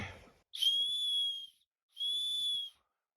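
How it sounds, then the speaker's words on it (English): A small survival whistle built into a cheap Wish.com survival wristwatch gives two shrill, piercing blasts of about a second each, close and loud, with quiet in between. "this is also a whistle"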